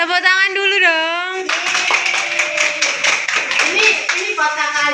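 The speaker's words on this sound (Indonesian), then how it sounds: "Tepuk tangan dulu dong." Audience clapping during a classroom quiz on the stories of the prophets, a brief burst of many hands clapping together between stretches of talk, with voices heard before and after.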